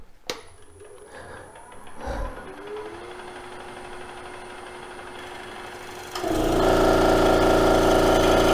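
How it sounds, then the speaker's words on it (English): An air compressor kicks on in a workshop, a loud steady motor drone and rattle that starts abruptly partway through and continues, following quieter sanding and handling noises. "That's my compressor coming on."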